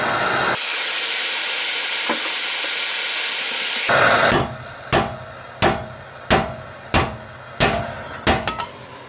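A blowtorch roars with a steady hiss while heating a seized rear wheel bearing hub on a Mazda RX7 FD3S; the flame then cuts off and is followed by a series of sharp, ringing metal hammer blows.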